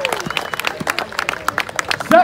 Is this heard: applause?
yes